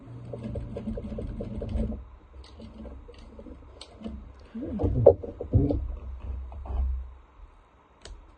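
A sewing machine stitches along a marked line on a quilted piece in quick rhythmic bursts, starting and stopping, with soft handling noises and a little quiet talk.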